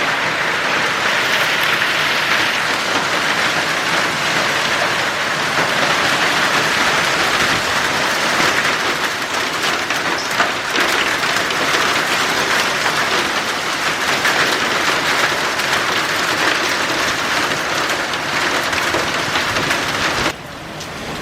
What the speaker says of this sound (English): I've never seen a hailstorm like this before.